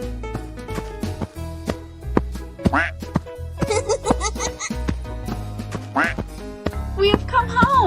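A cartoon-style duck quacks several times over bouncy background music in a children's animal transformation animation, the quacks loud and close with a few giggly, laugh-like squawks mixed in.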